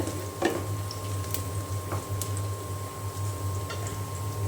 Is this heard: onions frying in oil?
yes